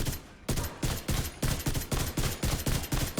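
Full-auto rifle fire from The Division 2 rattles out in a rapid, steady string of loud, close shots, about eight bursts a second, with no talking over it.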